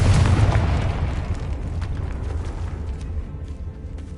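A Confringo fire spell in the video game Hogwarts Legacy lands as a loud, deep explosive boom that slowly rolls off into a long rumbling tail.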